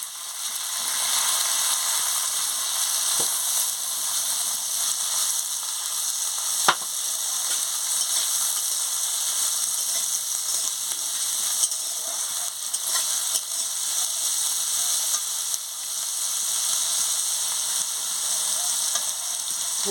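Vegetables for telakucha chorchori sizzle steadily in hot spiced oil, a bright continuous frying hiss with a few faint clinks of stirring and no talk.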